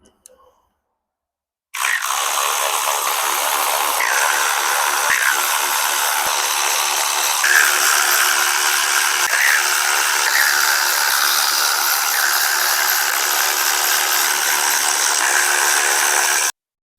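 Power tool whizzing out T30 bolts from the rocker cover of a TFSI engine, a loud continuous high-pitched motor whine lasting about fifteen seconds with faint clicks, beginning after a short silence.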